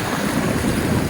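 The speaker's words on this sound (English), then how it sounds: "the waves are coming in from both sides and colliding into each other" Ocean surf churns continuously around the Rock Islands of Palau as waves collide from two directions, a dense, loud, unbroken wash close by with wind buffeting mixed in and no voices.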